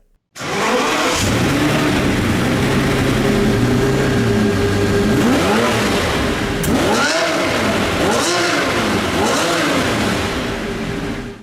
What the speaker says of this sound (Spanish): Un V12 derivado de la Fórmula 1 tiene que sonar bien, ¿verdad? Bueno, pues escuchémoslo.